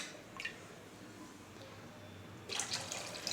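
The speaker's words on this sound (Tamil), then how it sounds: "கொஞ்சம் தண்ணி வேணால் விட்டுக்கலாம்." Water runs and splashes into a pot of karpuravalli rasam in a faint, steady stream, with a louder burst of pouring near the end.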